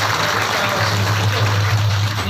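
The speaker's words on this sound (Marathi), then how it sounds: "त्यांच्यासाठी एकदा जोरदार सर्वांनी टाळ्या वाजवून" An audience claps together at a kirtan held for Ganesh festival celebrations, a dense, continuous applause that stays loud for the whole stretch.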